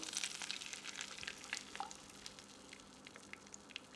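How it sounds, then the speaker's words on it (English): Eggs cooking in melted Kerrygold butter in a pan, a soft steady sizzle with light scraping and stirring touches, close and quiet, no voices. "we're going to simply just add in our eggs and cook through"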